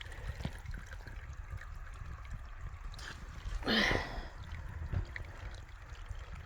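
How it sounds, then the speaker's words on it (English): Spring water runs steadily from a pipe at a trail shelter in the Smoky Mountains, a soft continuous trickle and splash heard close by with no talk. "we got a pipe spring right here and we ain't got to walk another half mile"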